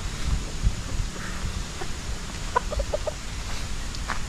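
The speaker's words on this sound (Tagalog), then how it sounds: "Ang daming manok na alaga ni Kuya dito Kuya Ogi." Several chickens cluck in short bursts at a moderate distance over a low, steady background murmur.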